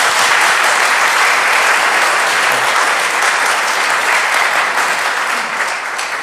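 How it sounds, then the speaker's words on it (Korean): A church congregation at a Tuesday prayer meeting claps loudly after hymn singing, a thick, continuous wash of many hands that holds steady and eases off a little at the close. "찬양이 얼마나 은혜롭고 아름다운지 정말 너무 감사한데 박수 한번 해주시죠"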